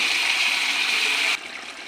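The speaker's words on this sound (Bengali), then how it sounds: "আজকের ডিমের কারি ফুটায় জল রেখেছি, অল্প করে ঝোল দিয়ে দেব" Water pours steadily into egg curry simmering over spice masala in a pan, a loud continuous rushing splash that cuts off abruptly near the end, leaving a softer bubbling hiss.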